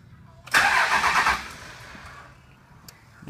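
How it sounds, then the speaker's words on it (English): A Dodge Cummins 24-valve 5.9L diesel has its starter bumped briefly, a loud burst of cranking lasting about one second before it fades, with no engine catch and no talk. "Going to bump the starter."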